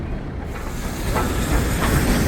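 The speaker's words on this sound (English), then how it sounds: "the train now arriving is the pick-up goods train, which will shunt into the sidings here at Quorn and Woodhouse" A pick-up goods train arrives at Quorn and Woodhouse station on a heritage railway, a rising rumble of wagons with hissing steam and faint clicking wheels, growing steadily louder over a couple of seconds.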